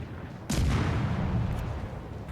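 Naval gunfire in World of Warships Legends, a tier 2 match: one sharp boom lands about half a second in, then a sustained low rumble of further firing that slowly fades, with no talk.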